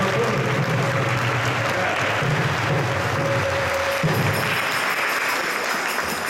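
After a lecture at an ISKCON Toronto Rathayatra gathering, the audience breaks into sustained, full applause, a dense even clatter of many hands that stays loud throughout over a faint steady hum.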